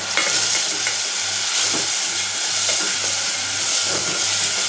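Tomatoes sautéing in a pan, a loud, steady sizzle with rhythmic scraping of a spoon stirring through the mixture, close up and continuous with no voices.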